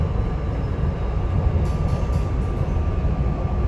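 SEPTA regional rail train on the airport line to PHL, heard from inside: a loud, steady low rumble and roar of the moving car with a faint tone and a few brief rattles, with no talking.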